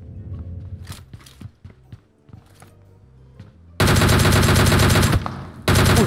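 Gunfire in PUBG Mobile starts as scattered single shots and thuds, then gives way to a loud, dense burst of sustained automatic fire that breaks off briefly before resuming.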